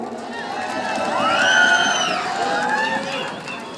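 An audience at a school prize distribution for boys' under-19 zonal sports tournaments gives a swelling burst of cheering and whooping, with crowd noise building and fading over a few seconds.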